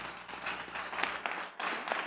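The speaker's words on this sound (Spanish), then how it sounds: "Un fuerte aplauso al Señor." Church congregation applauding, a short burst of dense clapping from a crowd at moderate distance, fairly faint and uneven.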